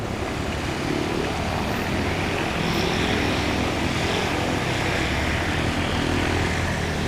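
A STOL airplane touching down on a short landing at a swamp STOL practice event in Jennings, Louisiana, its propeller engine held on throttle; a loud, steady, close drone fills the whole stretch with no talk.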